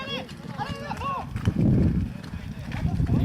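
Polo ponies galloping across the field at a La Baule tournament, hoofbeats thudding in a quick rough rhythm beneath a commentator's continuous talk, with a louder burst of pounding as the horses pass close.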